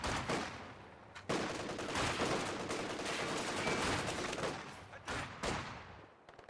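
MG42 machine gun fire in a World War II strategy game, dense overlapping bursts of automatic fire mixed with other battle noise, sustained and fairly loud through most of the clip before it tapers off.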